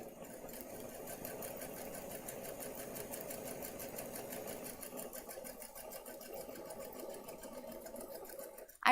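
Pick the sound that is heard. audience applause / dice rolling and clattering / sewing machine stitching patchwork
sewing machine stitching patchwork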